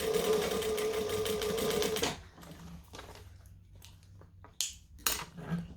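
A sewing machine sews a joining stitch on a fabric bag, buzzing loud and continuous for about two seconds before stopping, then followed by light clicks and fabric handling close by.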